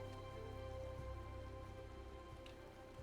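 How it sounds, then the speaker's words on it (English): Rain falling in the Final Fantasy XIV video game, a steady, soft patter of drops with a low background hum, continuous and fairly quiet, with no voices. "Oh, it's raining."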